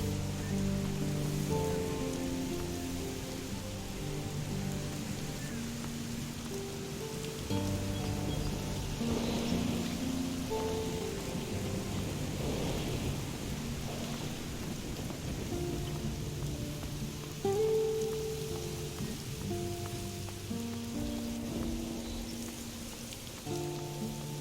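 Steady rain and rolling thunder from the video game Risen, a continuous stormy wash running throughout while background game music plays softly underneath.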